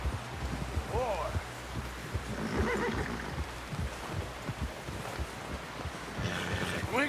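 A horse whinnies in Red Dead Redemption 2, a short rising neigh early on, set against wind and several voices calling out urgently.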